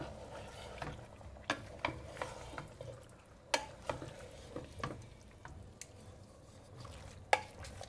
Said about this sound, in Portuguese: Vou mexer.